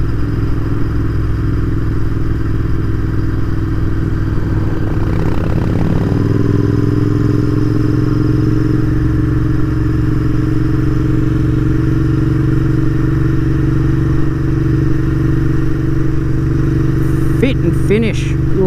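A Royal Enfield Continental GT650 twin-cylinder motorcycle rides steadily, its engine producing a continuous loud drone with a shift in pitch partway through, as if changing gear, close and sustained throughout.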